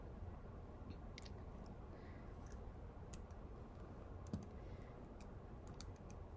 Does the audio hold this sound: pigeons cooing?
no